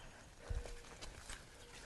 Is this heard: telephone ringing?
no